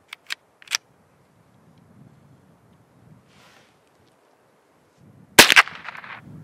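Rifle shot fired outdoors by a river while sighting in: a single sharp crack about two-thirds of the way through, preceded by a few faint clicks and quiet wind.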